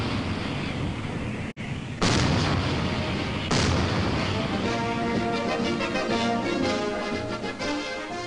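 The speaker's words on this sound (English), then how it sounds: "where guns explode, not in anger, but as a ceremonial gesture" Ceremonial artillery guns firing a salute at a military compound in Europe: heavy booming blasts, two big reports a couple of seconds apart with long rumbling echoes, loud and open-air under a continuous noisy background.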